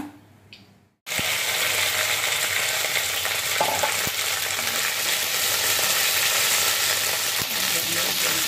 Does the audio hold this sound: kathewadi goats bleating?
no